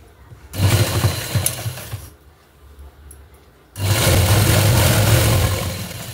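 A domestic sewing machine stitches the folded hook-and-eye strip on a blouse in two loud, steady bursts of running, with a pause between them and no talking.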